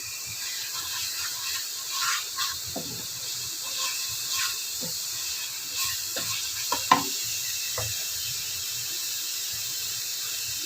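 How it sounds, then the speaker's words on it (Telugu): Turmeric and chili powder frying in oil over a medium flame for a masala gravy, with a steady soft sizzle and hiss and occasional stirring scrapes and clicks; fairly quiet, with no voices. "పసుపు కారం వేసిన తర్వాత కూడా కొంచెం సేపు మీడియం ఫ్లేమ్లో పెట్టి ఫ్రై చేయాలి."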